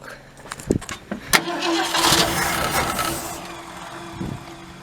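A 1967 Ford Galaxie 500 V8 engine starting after sitting for 25 years: the starter gives a few cranking bursts, then the engine catches into a loud rough roar that settles toward an idle, with voices nearby.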